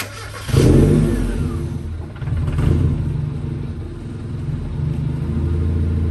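A tiny toy-like car's small engine cranks and catches with a sudden loud burst, then revs up and settles into a steady close idle rumble.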